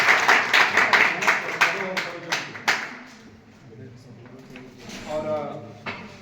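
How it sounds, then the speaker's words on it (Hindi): Students at a school farewell party clap loudly in a quick burst of sharp, rhythmic claps that fades into a murmur of voices and talk. "जोरदार तालियों से"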